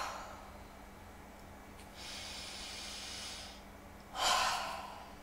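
A person doing yoga breathes deeply, taking a long, steady inhale followed by a sharper, louder exhale, close and quiet against a faint background hum.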